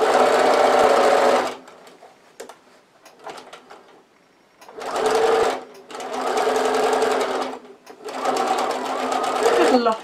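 Sewing machine stitching all the way around a fabric tablet case, running in three loud sustained bursts with short pauses between them and quiet handling noises in the gaps.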